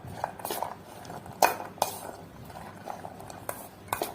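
A spoon mixes food in a bowl after lemon juice is squeezed over it, with close scraping strokes and sharp metallic clinks against the dish at an irregular pace.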